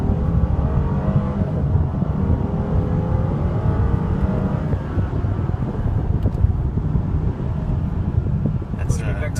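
A 2014 Mercedes-Benz SL550 roadster accelerating hard, heard from inside as a loud, sustained engine roar mixed with wind rush that holds steady for several seconds.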